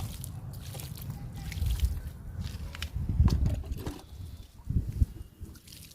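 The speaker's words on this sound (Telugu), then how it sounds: "ఇప్పుడు వాటర్ ఇద్దాము" Water pours and splashes onto freshly sown seeds in soil outdoors, a continuous trickling wash with heavier low splashes in uneven bursts.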